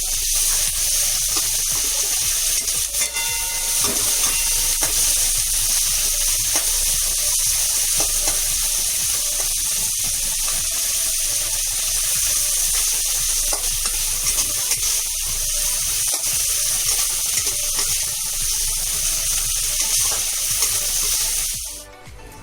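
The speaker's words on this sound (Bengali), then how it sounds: "পেঁয়াজটা একটু ভাজা ভাজা করতে হবে" Chopped onion fries in a pan, giving a continuous close sizzle and hiss with occasional clinks and scrapes of stirring; no one speaks.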